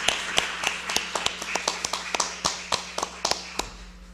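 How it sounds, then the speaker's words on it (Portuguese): A small gathering applauds interviewers at a music-education memorial event in Bagé, with sparse, uneven claps that come in irregular, distinct hits and sound thin and nearby rather than like a full crowd. "Uma salva de palmas, muito obrigado para os entrevistadores."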